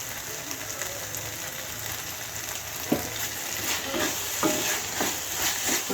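Baby corn gravy frying with turmeric powder in the pan makes a continuous sizzle, while a spoon scrapes and stirs through it in a few distinct clicks and scrapes. No talking is heard.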